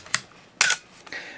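Canon AE-1 Program film camera with a 50mm FD f/1.8 lens, its shutter fired on the bulb setting, giving a few sharp mechanical clicks close up with a brief whirring sound between them.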